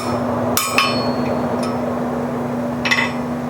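Sharp metallic hammer strikes on an anvil horn while forging a spring fuller, a quick double ring, a faint tap, then another clang, over a steady hum with no talk.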